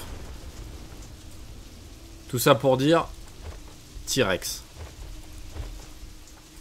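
Steady rain in a King Kong video game hisses throughout at a moderate level, while someone speaks briefly twice over it.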